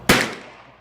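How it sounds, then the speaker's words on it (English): A single sharp, loud rifle shot from a Savage Model 99F chambered in .308 at a shooting range, fired once close by and trailing off in a ringing decay. "All right, we got Rick here with his Savage Model 99F in 308."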